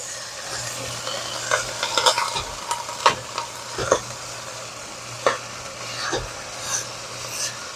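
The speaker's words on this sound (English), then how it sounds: "that thing is sizzling so good, so nicely" Steady sizzling of spaghetti sauce in a Dutch oven with scraping, stirring and mashing sounds, a few sharp clinks and knocks, and a low hum underneath.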